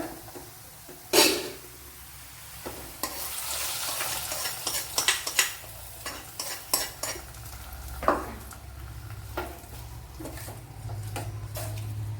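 Fried onions being poured into a pot of Kerala-style pumpkin curry, then stirred, with scraping and clinking of a utensil against the pot, irregular close stirring strokes over a faint background hiss.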